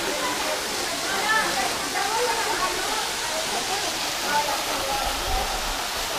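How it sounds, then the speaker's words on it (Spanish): Waterfall at Mazamitla heard from its base, a loud steady rushing roar of falling water that never lets up, with people talking faintly beneath it. "ya estamos a la falda de la cascada"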